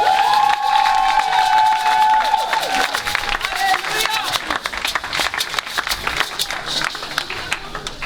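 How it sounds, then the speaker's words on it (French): A church congregation cheers and applauds, loud and close, with shouts and scattered clapping that rise at first and then thin toward the end. "on peut les acclamer"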